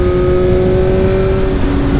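A BMW S 1000 RR motorcycle engine revs steadily through a long exhaust canister, a loud continuous drone with a strong tonal hum and no speech.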